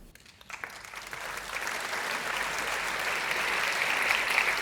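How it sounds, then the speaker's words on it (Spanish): An audience in Madrid claps to welcome a Sudanese stand-up comedian to the stage, applause starting sparse and quickly swelling into a dense, steady ovation that grows slightly louder throughout. "recibamos con un fuerte aplauso"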